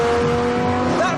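A 570-horsepower V10 in a four-wheel-drive Lamborghini Sesto Elemento supercar roars loud and steady as it accelerates, with a rising engine tone throughout.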